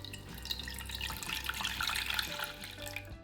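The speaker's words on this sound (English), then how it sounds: "In a pot over medium heat, add the water" Water runs steadily into a pot for a few seconds, a continuous splashing stream close by with no voices.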